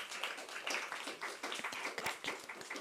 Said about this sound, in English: If you are a student, can you clap your hands?